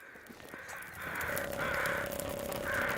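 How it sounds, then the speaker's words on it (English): Crows cawing in the survival video game The Long Dark, a series of three or four raspy caws at a moderate distance over a quiet wintry background. "I'm still hearing some crows"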